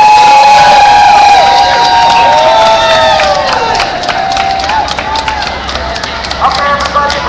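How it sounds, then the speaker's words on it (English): A crowd of about a hundred striking nurses cheers and shouts loudly at a street demonstration outside JPMorgan Chase, the noise lasting throughout. Voices talk nearby over it. "Got a good crowd of nurses here."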